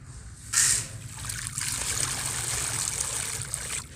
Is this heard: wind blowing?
no